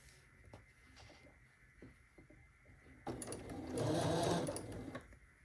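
A Bernina sewing machine stitches curtain fabric, its needle ticking softly at first, then it runs faster and louder for the last couple of seconds in a steady whirring buzz close by.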